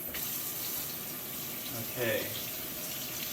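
Hot water runs steadily from a faucet fed by a continuous recirculation loop, a constant close splashing hiss throughout, with a brief spoken word partway through.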